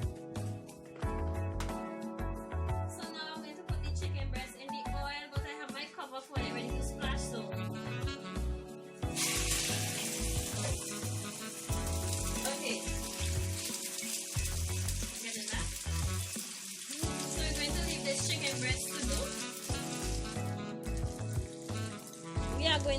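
Chicken breast fries in hot oil, giving a loud, close, continuous sizzle that crackles and rises in intensity partway through.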